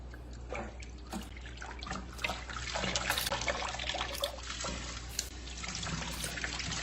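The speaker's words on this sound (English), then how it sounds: "I washed these greens 3 times" Greens being washed in water: a faint, steady trickle and gentle sloshing, broken by brief, regular splashes.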